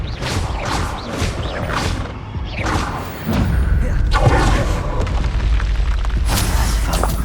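Repeated Confringo blasting-spell explosions from Hogwarts Legacy combat land as a series of whooshing booms and thuds, several in quick succession, loud and close, with heavier rumbling impacts in the second half.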